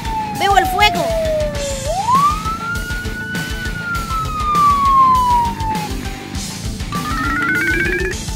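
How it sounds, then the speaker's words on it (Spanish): A cartoon fire truck's siren wails loudly, sweeping down then rising and falling in long slow glides, with a second higher siren tone joining near the end while children's voices talk over it. "¡Veo el fuego! Ok, detente aquí, camión de bomberos."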